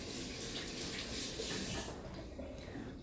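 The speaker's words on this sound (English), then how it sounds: "So for the first one, I wash my hands." A kitchen tap runs in a steady, close hiss while hands are washed before making sushi. The flow cuts off partway through, leaving quieter room sound.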